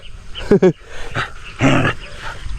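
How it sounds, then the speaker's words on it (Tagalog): Several dogs guard a newly built hangout during an overnight stay, giving two sharp close barks followed by rougher, louder barking, with a person talking in between. "Ayun mga aso. Ang dami nila pala."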